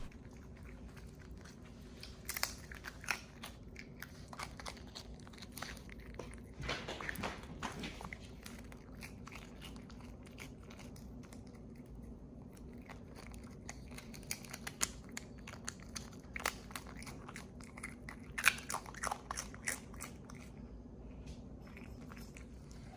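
A raccoon munches cheesy chips up close, with crisp irregular crunches and chewing clicks, some louder bursts of biting, over a quiet background.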